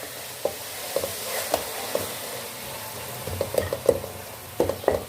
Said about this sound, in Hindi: लहसुन अदरक को हमने फ्राई कर लिया। अब इसमें हम टमाटर डालेंगे।